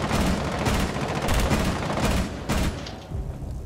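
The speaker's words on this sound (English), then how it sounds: "He shot me from triple room." Gunfire fills a Rainbow Six Siege team deathmatch hostage round on the Chalet map. It comes as rapid, dense automatic bursts at a sustained loud level, with brief gaps between volleys.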